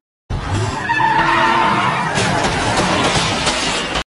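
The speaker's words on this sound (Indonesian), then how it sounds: "ia pun tanpa sengaja menabrak pengendara motor yang melaju cukup kencang" A car skids loudly with a long tire squeal and engine roar, sustained and close, cutting off abruptly as it hits a motorbike.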